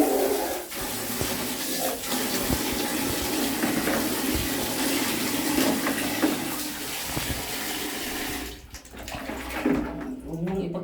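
Water gushes steadily from a tap for several seconds, a close, continuous splashing rush that briefly dips near the end.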